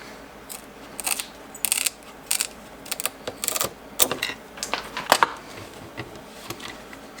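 Material for a homemade bait cooler is cut with a hand tool in a run of short, crisp snips and crunches, close and irregular, with brief pauses between cuts.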